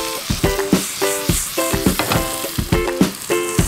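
Halved cherry tomatoes and vegetables sizzle loudly in a hot wok while being stirred, with continuous frying hiss punctuated by regular scraping and clanking strokes of a utensil against the pan.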